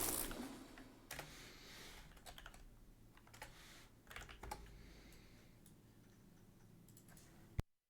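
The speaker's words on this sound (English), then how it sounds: "while you obnoxiously hear me type." Fingers tap a computer keyboard in quiet, uneven bursts of clicking keystrokes, close but soft, with a louder clack just before the sound cuts off.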